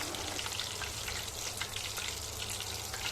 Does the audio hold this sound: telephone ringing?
no